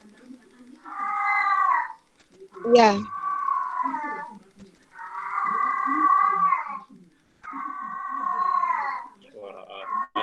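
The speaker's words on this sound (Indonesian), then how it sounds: "Suara kucing ini." An angry cat lets out four long, drawn-out whining meows, loud and close, with short pauses between them and a brief voice speaking in one of the gaps.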